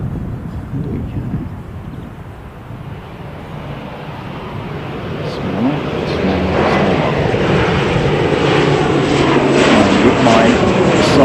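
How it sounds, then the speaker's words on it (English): An ATR turboprop airliner takes off, its engine roar swelling steadily from a distant rumble to a louder, sustained drone with a broad whoosh. "ATRs taking off within a few minutes of one another."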